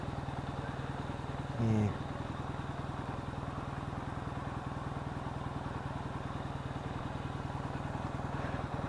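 A Yamaha XS650 motorcycle engine runs steadily throughout with a dense, even rumble, ridden around Stevenage with an oil leak, and a brief spoken word cuts in near the start.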